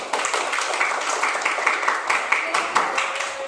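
A room full of people claps together, steady scattered applause lasting a few seconds with a murmur of voices underneath.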